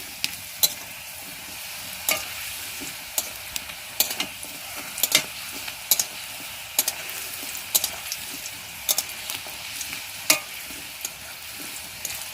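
Pumpkin slices frying in oil in a pan, with steady sizzling and frequent sharp scraping clicks of a spatula stirring at irregular intervals, close and moderately quiet, no talk.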